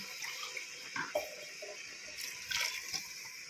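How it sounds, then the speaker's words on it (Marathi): Two glasses of water pouring into a pan of sautéed mixed vegetable masala for Bhogi bhaji, a steady splashing gush with a few louder surges, close and alone without talk. "आता आपण त्यामध्ये 2 ग्लास पाणी घालून घेऊ"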